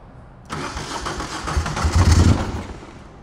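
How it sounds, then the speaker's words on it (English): A 1992 Magni Sfida 400 motorcycle makes a cold start indoors with the choke on: after a short quiet moment the engine catches and rumbles up loudly. It settles into a strong, uneven idle that swells and eases, with no talking. "We'll do a cold start here and then I'll take it outside."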